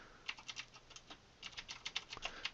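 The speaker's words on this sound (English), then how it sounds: "so I type in Buttermilk Falls" Quick bursts of typing on a computer keyboard at a desk, entering a place name into a search box: light close clicks in two uneven runs with a short pause between them, no voices.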